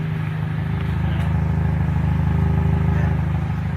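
A car's loud exhaust drones with a steady, rough low rumble at idle, continuous and close, with no talking.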